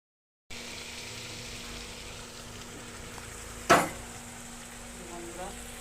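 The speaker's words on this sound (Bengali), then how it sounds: "ভালো করে কষাতে হবে।" Masala spices for chana masala fry in a pan, a soft steady sizzle with a single sharp scrape or clatter of stirring partway through, close and fairly quiet.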